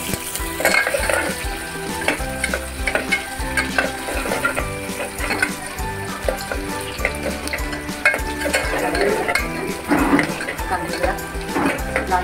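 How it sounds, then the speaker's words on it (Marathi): Onion frying in hot oil in a home kitchen while an Agri-Koli style dal is cooked, with a steady sizzle, occasional stirring and scraping against the pan, and a spoon clinking on metal throughout. "कांदा शिजला तुम्ही बघू शकता, कांदा आपला शिजत आहे"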